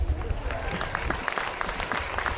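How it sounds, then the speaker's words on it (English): A crowd at a Stop Asian Hate rally in Austin claps for itself, a fairly soft scatter of hand claps spread across the short stretch, with distinct individual claps standing out. "yes, give yourself a clap."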